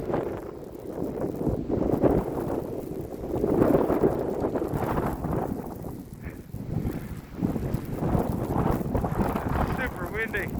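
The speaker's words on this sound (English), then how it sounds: "Super windy." Strong blizzard wind in Omaha, Nebraska buffets the microphone in heavy, surging roaring gusts for about eleven seconds, loud and close throughout, with a voice speaking briefly under the noise.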